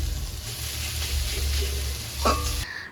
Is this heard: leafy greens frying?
yes